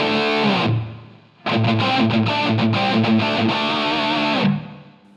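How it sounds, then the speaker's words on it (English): Distorted electric guitar tone from a Line 6 Pod Go with reverb switched on, loud and alone: a held chord fades out, then a rhythmic galloping riff plays for about three seconds and rings out with a reverb tail. "Let's bring our reverb in."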